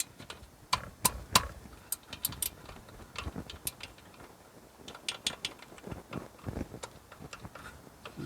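A ratchet wrench tightening a bolt on a Mitsubishi 3000GT rear wheel hub during a 4WD hub replacement, with irregular bursts of quick metallic clicks and faint clanks, close but fairly quiet, without talk.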